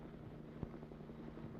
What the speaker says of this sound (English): We're right proud of this helicopter service that speeds airmail deliveries to and from the big city airport.